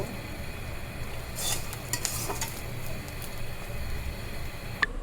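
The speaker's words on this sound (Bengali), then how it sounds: "রসুনটাও ভালো করে ভেজে নিব দেখুন ভাজা কিন্তু হয়ে গেছে" Soft sizzling of garlic and chilli frying in oil in a pan, with scraping stirs and a few light metallic clinks from a utensil, fairly quiet, no speech.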